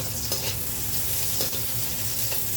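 Onion and garlic sizzle steadily in a hot pan, a dense continuous frying hiss with faint scraping stirs at regular intervals, close and fairly loud with no voices.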